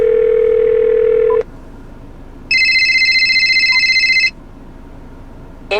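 A phone ringtone plays through the car speakers of a 2017 Subaru Outback Touring, loud electronic tones in separate bursts with quiet gaps between them and a short blip at the end.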